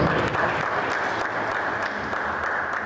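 Dense, sustained applause from an audience honoring a council chairman at a security task force flag-off event in Edo State, steady and loud throughout with no break.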